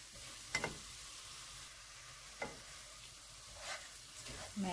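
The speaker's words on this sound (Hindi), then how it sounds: "मैं इसको लगातार हिला रही हूँ" A spoon scrapes through gram flour (besan) roasting in a pan over low heat, soft intermittent stirring strokes over a quiet, faint sizzle, close and gentle.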